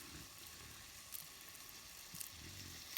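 Meatballs for a meatball soup sizzle faintly in a pan that is just warming up, a soft steady hiss broken by a few small pops.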